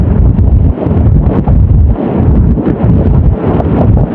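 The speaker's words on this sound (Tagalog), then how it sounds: "napakalakas ng hangin mga idolo, napakalakas" Strong wind buffets the microphone during a cycling race stage, a loud, continuous low roar with gusting surges and no break throughout.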